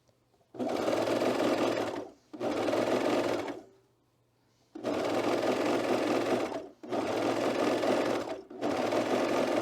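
Sewing machine stitching a seam on a child's hood with cat ears, running in five steady bursts of a few seconds each with short pauses between, close and fairly loud.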